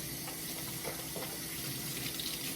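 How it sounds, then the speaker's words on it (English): Tap water runs steadily into a sink while hands are washed, a continuous close splashing hiss with slight surges and no talking. "Wash my hands."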